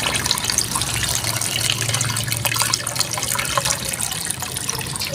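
Steady rush of water from a shallow well pump pouring and splashing continuously, fairly loud and close, with no talking over it.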